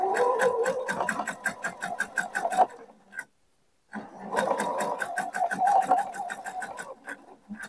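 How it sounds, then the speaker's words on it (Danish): A sewing machine stitches the armholes and neckline of a girl's dress, running in two close bursts of fast rhythmic needle ticking with a brief silent stop between them. "på den her måde syr jeg nu begge ærmegab og halsudskæring"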